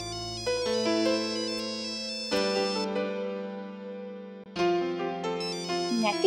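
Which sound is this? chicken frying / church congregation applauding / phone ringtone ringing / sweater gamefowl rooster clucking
phone ringtone ringing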